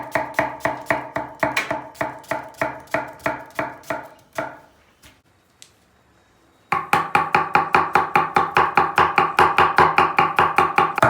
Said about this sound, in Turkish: soğan doğrarken dikkat edin